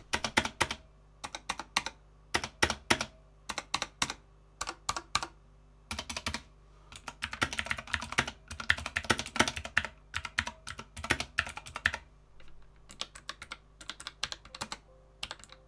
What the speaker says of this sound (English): they still have a great clicky feel, but do not bottom out as much as my other blue keyboards